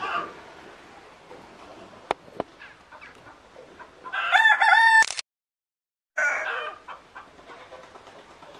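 Several roosters at a bird rehabilitation centre crow clearly and loudly mid-way, with clucking and faint background noise around them, and the sound cuts out briefly before resuming.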